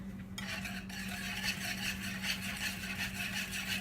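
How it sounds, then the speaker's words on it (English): Electric beater whirring through eggs and vanilla extract in a mixing bowl for M&M cookie bars, a steady motor hum with a busy whisking rasp on top, close and even, no talking. "So let's mix the eggs and the vanilla extract in. So let's get our beater again."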